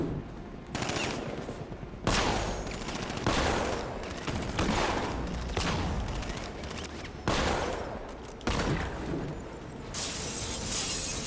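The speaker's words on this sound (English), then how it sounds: "Fire riot suppressor." The Batmobile's riot suppressor in Batman: Arkham Knight fires in loud, sustained rattling volleys, with a short break roughly every second or so between bursts, all close and harsh.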